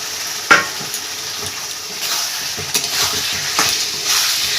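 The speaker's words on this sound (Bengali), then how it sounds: "ভালোভাবে কষিয়ে নেব আলুটা দিয়ে" Fried potatoes being stir-fried in a pan with spices for a katla fish curry, a steady sizzle with a few sharp scraping stirs of the spatula, close and fairly loud, with no talk.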